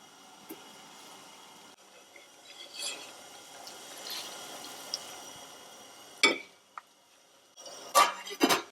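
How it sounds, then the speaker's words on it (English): Boiled potatoes being strained into cold water in a home kitchen: soft running water and liquid splashing, with sharp clinks and knocks of a pot or dishes toward the end. "Now I'm going to strain out the potatoes into some cold water for it to cool down."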